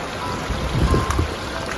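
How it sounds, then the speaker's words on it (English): A small mountain creek runs beside a waterfall in Southern California snow country, giving a steady, close broadband rush of flowing water with faint gurgles and no voices. "Finally made it up here to the creek"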